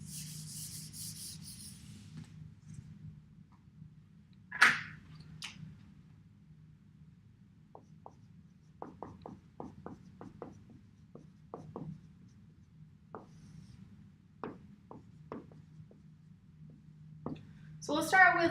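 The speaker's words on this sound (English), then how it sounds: "I'm going to write these on the whiteboard" A marker writes on a whiteboard in short, faint squeaky strokes spread across the stretch, with quiet room tone between them and a sharper tap or squeak near the start and end.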